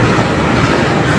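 The KA Progo passenger train from Jakarta to Jogja rolls along the rails, heard from inside a rear economy carriage as a loud, continuous rumble with rhythmic wheel clatter.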